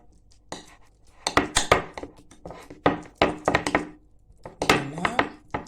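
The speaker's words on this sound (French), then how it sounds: "je continue d'écraser en mélangeant les épices que j'ai déjà ajoutées à la purée d'avocat" Avocado purée with spices is mashed in a bowl, giving a series of close, irregular knocks and clinks of utensil against dish, some quick and clustered, others spaced apart.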